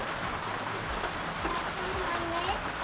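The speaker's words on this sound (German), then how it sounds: "wir warten mal ab, bis der Regen einfach besser wird, also aufhört" Steady rain hisses down outdoors in New Zealand, and people talk quietly over the even wash of falling water.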